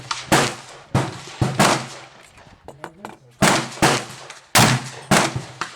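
Sharp pistol shots from a Colt 1911 or Glock 30SF firing CCI Blazer ammunition, several loud cracks spaced irregularly with brief gaps between, close to the microphone with a faint low hum underneath.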